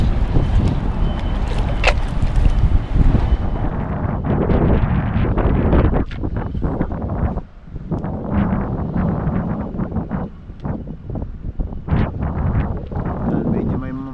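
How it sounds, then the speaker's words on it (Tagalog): Strong gusts of wind buffet the microphone with loud rumbling bursts that rise and ease, occasional crackles on top, and no clear voices. "Hangin din po pabugso-bugso, pagpasensyahan na po."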